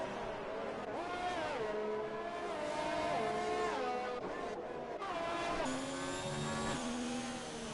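A Ferrari Formula 1 car's engine heard onboard in an F1 racing video game at the Spanish Grand Prix, whining steadily and rising and dropping in pitch through gear changes, loud and continuous with faint commentary beneath.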